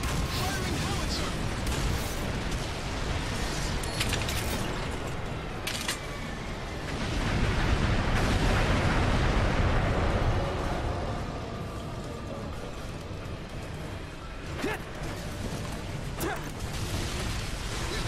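Howitzer artillery fire in the video game Earth Defense Force 4.1, a dense, continuous roar of booming blasts and rumbling mechanical noise that swells in the middle, with voices talking over it.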